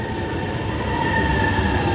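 A Shanghai Metro Line 10 train pulling into the station with a loud, steady rumble of wheels on rails and a faint high squeal, close and continuous.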